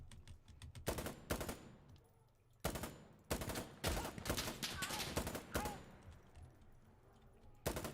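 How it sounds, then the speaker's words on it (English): Rapid automatic gunfire from the video game Insurgency Sandstorm, loud sustained bursts of shots with short pauses between volleys, some heavy thumps mixed in. "I'm doing Hollywood shooting here."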